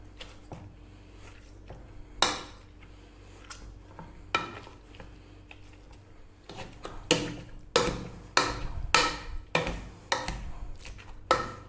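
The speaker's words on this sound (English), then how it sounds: "We're going to just mash it right out" Swede being mashed with a potato masher, giving a run of irregular soft squelching thumps and clicks that grow louder and more frequent toward the end, close up and without talk.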